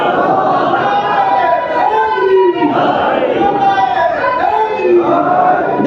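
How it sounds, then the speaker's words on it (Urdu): A crowd at a religious gathering chants slogans in unison, loud massed voices rising and falling in rhythmic call-and-response swells that fill the whole stretch. "ابھی احمد رضا کے ساتھ نعرے لگاتے ہیں"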